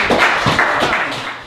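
An audience at a poetry slam applauds, a dense burst of clapping from a crowd that swells briefly and then starts to fade.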